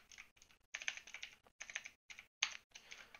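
Bursts of quick key clicks come from typing on a computer keyboard, close and fairly quiet, broken by short pauses between runs of keystrokes, with no talking.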